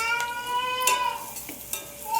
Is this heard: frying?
yes